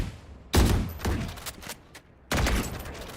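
Gunfire rings out in a Valorant esports match: two loud, sharp bursts of rapid shots, the first followed by scattered single cracks, with a brief lull between them.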